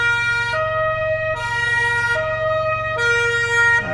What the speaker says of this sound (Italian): Anche la sirena ci ha accompagnato.